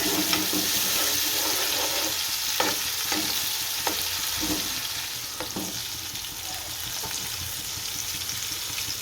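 Tomatoes fry in a pan for a stuffed drumstick curry, giving a steady close sizzle with scattered scraping stir strokes throughout and no talking.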